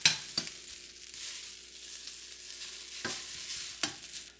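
Scallops frying in a pan give a quiet, continuous sizzle, broken by a few brief scrapes and clicks as they are turned over. No one speaks.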